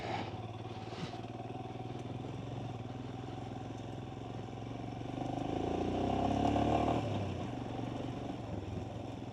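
Motorcycle engine heard from the rider's helmet on a ride, a low steady drone with wind noise that swells into a louder rising rev for a few seconds before settling back.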